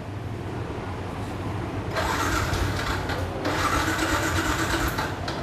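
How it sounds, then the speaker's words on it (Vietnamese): A used motorcycle at a Vietnamese used-bike shop cranks and fires up, its engine catching abruptly and settling into a steady mid-pitched idle up close, with no talking. "Giá để mình nổ máy nhẹ cái ha"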